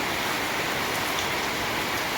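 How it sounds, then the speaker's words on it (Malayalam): Steady night rain pours down, a dense, even patter close by, with no other sounds. "നല്ല കാറ്റുണ്ട് മഴ പെയ്യുന്നുണ്ടായിരുന്നു ചെറപറാ മഴ പുതുമഴ രാത്രി മഴ"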